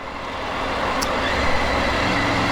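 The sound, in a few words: road traffic on OMR on Sunday morning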